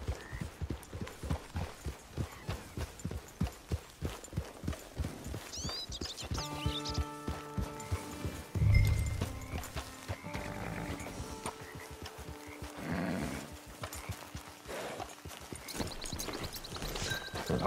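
Horse hooves clip-clop steadily in Red Dead Online, a rhythmic run of close, even hoofbeats at first, then fainter steps under game music with tonal chimes.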